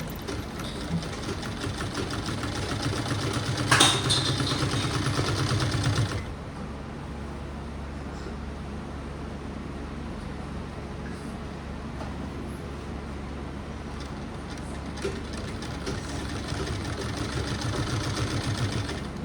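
Electric sewing machine double-stitching a kali lehenga: a loud, rapid mechanical whir runs for about six seconds, then drops to a softer, steady motor hum and stitching that continues to the end.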